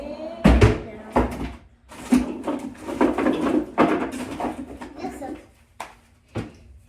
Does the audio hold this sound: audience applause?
no